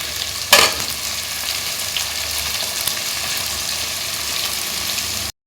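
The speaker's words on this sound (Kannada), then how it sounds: "ಸ್ವಲ್ಪ ಉಪ್ಪು ಹಾಕಿ ಈರುಳ್ಳಿ ಬೇಗ ಫ್ರೈ ಆಗುತ್ತೆ." Chopped onion and tomato fry in a pan with a little salt during village-style chicken curry cooking, making a continuous close sizzle. A sharp burst of louder crackling comes near the start as food hits the hot oil.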